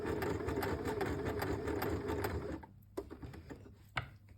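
A sewing machine stitching a four-step buttonhole hums in a fast, even whirring rhythm, then stops, leaving a few soft clicks and mechanical taps.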